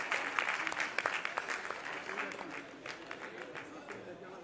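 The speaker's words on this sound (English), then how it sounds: "So please, with a huge round of applause, we welcome architect Raza Kapoor." A live audience applauds to welcome architect Raza Kapoor to the stage, a fairly faint spread of clapping that thins slightly toward the end, with some voices mixed in.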